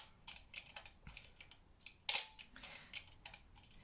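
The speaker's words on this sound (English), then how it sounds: "just listen to the sound of the shutter" A purely mechanical, metal-bodied Minolta SRT 101 35mm film camera fires its shutter several times, giving soft crisp clicks and mechanical clacks at irregular intervals, close and quiet with no voices.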